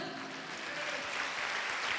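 A church congregation at a pastors' seminar in Guadalupe, Mexico, applauds, a soft, distant wash of many clapping hands held at a steady level throughout.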